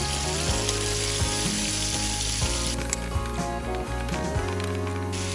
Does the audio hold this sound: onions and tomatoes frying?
yes